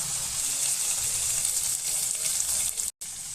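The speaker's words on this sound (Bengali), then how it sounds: "ভালো করে ভেজে নিয়ে মশলাগুলো দিয়ে দিচ্ছি বাটা মশলাটা দিয়ে দিলাম যতক্ষণ না তেল বেরোবে ততক্ষণ আমি কষতেই থাকবো" Steady, close sizzling of spices and ground spice paste frying in oil for a Bengali chicken curry of gizzard and liver, a continuous hiss that cuts out briefly near the end.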